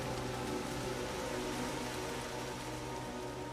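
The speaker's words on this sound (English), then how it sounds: "the rain's getting harder and harder. You know, it's getting louder and louder." Steady, dense rain hissing on a surface, constant and loud throughout with no voices.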